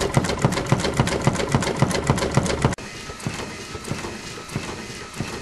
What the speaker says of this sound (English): Here's a good example of how quickly the system can tamp.